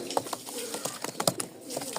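Domestic pigeons, including satin and banja breeds kept for sale in Rajshahi, coo and rustle close by with soft throaty calls and a few wing or foot sounds, fairly quiet and without talking.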